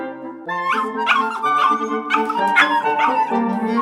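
A dog gives a run of high, whiny yips and yelps, about seven in quick succession, close and fairly loud with no other sounds.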